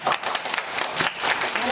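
Clapping to welcome a pastor at a church during a short-term mission trip in Kaohsiung, Taiwan, a brief burst of close, bright claps mixed with voices.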